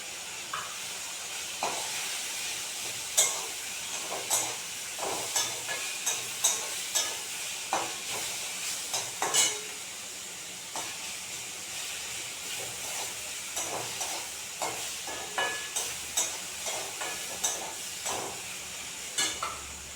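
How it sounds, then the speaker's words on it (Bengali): Potatoes and coriander leaves frying in a pan, a steady sizzle and hiss with repeated scraping stir strokes at an irregular rhythm, close and moderately loud, no voices. "এই একটু ভাজাভাজি হয়ে গেছে এবার দিয়ে দেবো বের করা আলুটা"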